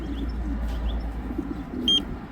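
Racing pigeons coo softly at the loft, giving low murmuring calls over a steady background hum, with a faint higher chirp near the end.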